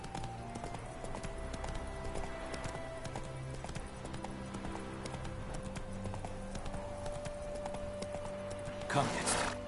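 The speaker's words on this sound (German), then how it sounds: "da stehen ja ein paar Pferde im Warzenfeld rum." Horses move across a wart field in The Witcher III, their hooves clip-clopping in a steady rhythm throughout. Game music plays underneath, ending in a brief burst of noise.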